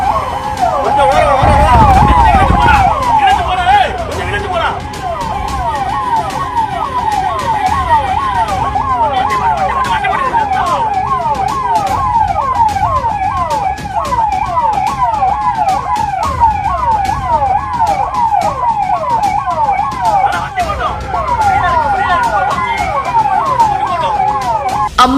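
An ambulance siren on a road near Rajapalayam wails loudly and close by in a fast, steady rising-and-falling cycle for the whole stretch, with engine and traffic noise underneath.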